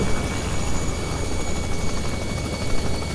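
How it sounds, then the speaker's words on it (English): A Robinson R66 turbine helicopter hover-taxis toward a helipad, its engine and rotor producing a loud, steady roar with a rhythmic blade beat and turbine whine, close and unbroken throughout. "we will hover taxi to the helipad"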